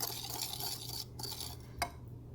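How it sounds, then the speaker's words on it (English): A sugar skull mixture of sugar is stirred in a bowl, giving quiet granular scraping with a couple of sharper clinks of utensil against the container, close and without voices. "I'm just going to stir it really good"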